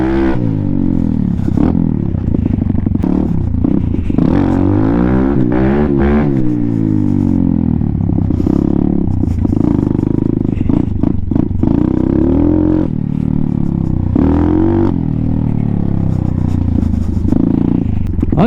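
A Venom Thunder 125cc motorcycle with a newly installed Nibbi carburetor roars loudly and continuously while riding, its engine note rising and falling through throttle changes and gear shifts, close and dominant throughout.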